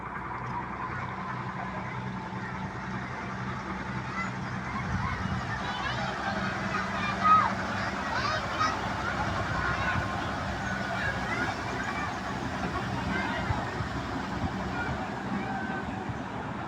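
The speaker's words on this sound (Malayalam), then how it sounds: "സ്കൂൾ ബോട്ട് വരുന്നുണ്ട്." A school boat approaches on a canal in Kuttanad, Kerala, with a steady low motor drone and wash that rises slightly around the middle, under a constant outdoor hiss.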